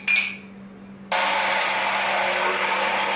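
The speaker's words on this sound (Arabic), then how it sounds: "وهلا جاري عملية الخلط مشان ندوب النشا يتجانس مع بعضه هو الحليب والمكونات الباقية" Electric blender whirring loudly and steadily, mixing cold milk with starch and almonds for a Syrian milk pudding; it starts abruptly after a quiet moment and runs continuously.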